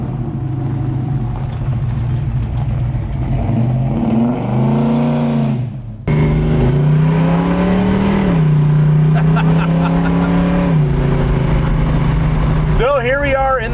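A 1972 Dodge Dart Swinger muscle car engine drones steadily and close while driving, its pitch rising and dipping as the throttle changes, with a brief break partway through and a short higher rev near the end.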